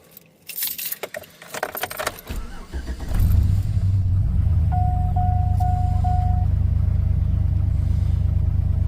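Keys jangle in the ignition, then the engine of a 2007 Chevy Avalanche truck cranks and catches, settling into a steady, loud idle rumble with a few chime beeps over it, heard close with the hood open.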